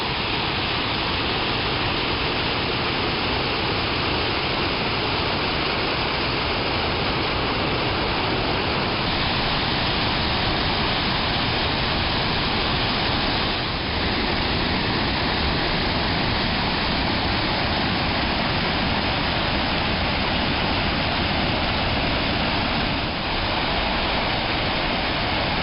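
Upper reaches of the Rogue River in Oregon, just above the Royal Gorge, rush loudly and steadily in a dense, unbroken roar of whitewater with no voices.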